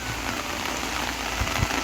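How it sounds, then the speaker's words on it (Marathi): Rain falls steadily in sunshine beside a park and a roadside, a soft continuous patter close by with a couple of slightly heavier drops near the end. "आता बघा पाऊस आहे आणि ऊन बघा तुम्ही"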